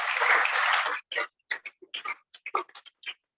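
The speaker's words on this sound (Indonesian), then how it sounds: "Tepuk tangan untuk kalian semua." Parents and guests at an Islamic boarding school event give a brief burst of applause that cuts off after about a second, leaving a handful of scattered, separate claps trailing off.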